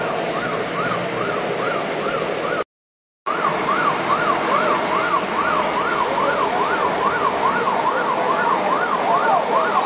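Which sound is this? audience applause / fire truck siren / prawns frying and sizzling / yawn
fire truck siren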